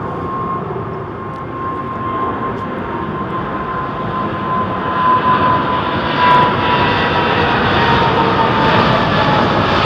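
A jet departing London Heathrow roars loud and steady throughout, a broad engine rush with a faint whine running along the top that swells slightly near the end.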